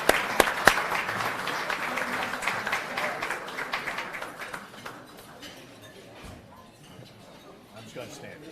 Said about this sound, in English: you both deserve a round of applause and the podium